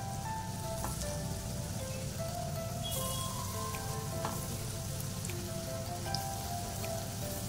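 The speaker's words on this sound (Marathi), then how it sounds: "हे ना स्लो टू मीडियम फ्लेम वरती मच्छी फ्राय करून घ्यायची ही।" Fish coated in rice flour and semolina fries in oil over a slow to medium flame, a dense, steady crackling sizzle with scattered pops, close and continuous, no voices.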